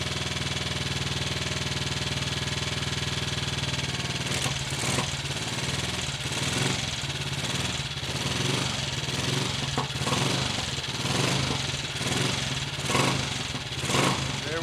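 A Triumph Tiger Cub motorcycle with a Zenith carburettor and 6-volt electrics runs close by after sitting for over two months, idling steadily at first, then pulsing unevenly with small throttle blips.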